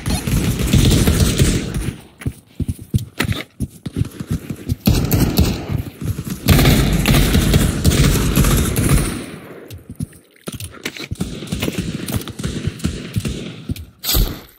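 Rapid bursts of automatic gunfire in the VR shooter Pavlov, loud and close, with dense clattering volleys broken by short pauses, then scattered shots toward the end.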